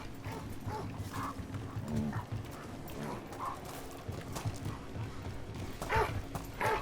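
A dog in the video game Dragon Age: The Veilguard, with several short whines and low barks amid hoof-like footsteps and game ambience, moderately close.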